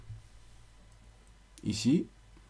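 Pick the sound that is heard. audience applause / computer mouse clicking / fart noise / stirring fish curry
computer mouse clicking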